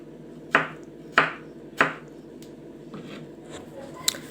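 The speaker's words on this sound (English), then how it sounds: "I'm chopping my tomatoes like that so that I can be able to cut them into tiny pieces" A knife chops tomatoes into tiny pieces on a board, three distinct loud chops followed by softer cutting taps, close up with no talking.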